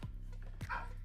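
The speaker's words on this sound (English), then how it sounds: "sorry if you hear my dog in the background, or dogs" A dog gives two sharp, close barks about half a second apart inside a house, over a low steady background hum.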